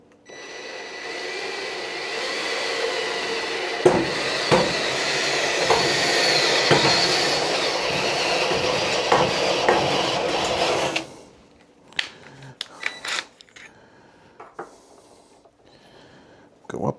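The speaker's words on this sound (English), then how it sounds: "So let's try and drill a big hole." A power drill bores a large hole for a sink faucet, giving a loud, steady grinding whine for about eleven seconds, then stops, leaving scattered clicks and handling knocks.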